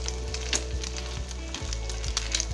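Egg toast frying in mustard oil, a roadside tea-stall style dim toast, sizzles steadily and close, with a few soft presses and scrapes against the pan.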